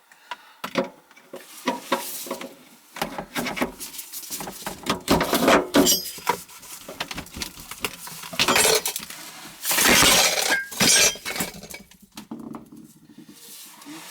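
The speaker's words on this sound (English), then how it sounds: "My fucking wrench went. I dropped my wrench here." A wrench dropped under a sink among scattered bottles while a garbage disposal is being replaced sets off clinks, clatters and glassy knocks, loud and close, with scattered bursts of rattling and no talk.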